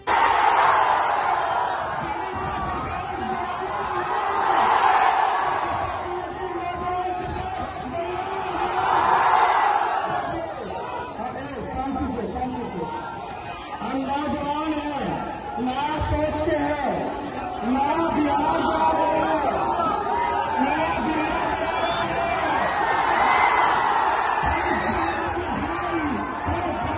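Large crowd gathered at a Tejashwi Yadav election rally in Bihar, a dense, steady roar of many voices with swelling cheers and shouts, loud and continuous throughout.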